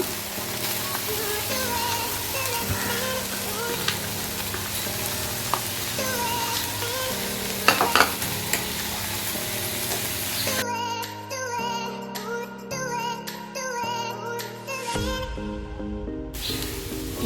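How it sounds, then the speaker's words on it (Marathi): Jaggery stirs and melts in a pan over a low flame, giving a steady soft sizzle with scraping stir strokes. Faint background music plays throughout. "गूळ अगदी मेल्ट होईपर्यंत असंच परतत राहा खालीवर"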